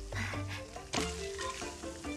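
Meat and butter sizzle in a pan in the Monster Hunter Wilds video game, a continuous close frying hiss with crackles and faint tonal cooking chimes layered over it.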